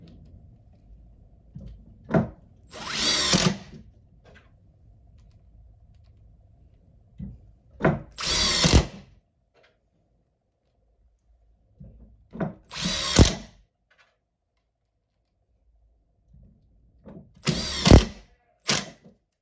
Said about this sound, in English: I'm going to screw it over here. 5 screws.